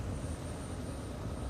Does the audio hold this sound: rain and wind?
no